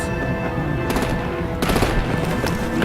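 Sustained automatic gunfire in the video game Batman: The Enemy Within, loud and dense, with rapid bursts pounding continuously throughout and intensifying in the latter half, no speech over it.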